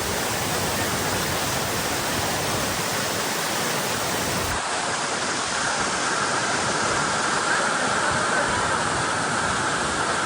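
Vasundhara waterfall roaring through monsoon rain, a dense, steady broadband rush of falling water that stays loud and unbroken throughout, with no voices.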